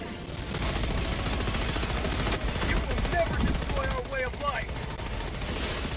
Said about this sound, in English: Got an orbital strike going in.